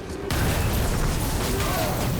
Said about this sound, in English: He sets off a set of explosions.